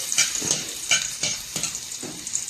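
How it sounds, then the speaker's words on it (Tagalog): Garlic sautéing in hot cooking oil, a close, steady sizzle punctuated by regular stirring strokes roughly every half second, with no talking. "Ayan guys, mantika, painitin lang natin. Ayan, ilagay natin ang bawang. Ating halo."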